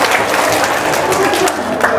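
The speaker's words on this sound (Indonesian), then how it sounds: "Tepuk tangan buat si blow on." An audience breaks into applause during a talk on debt, a steady patter of clapping mixed with crowd murmur and voices for about two seconds.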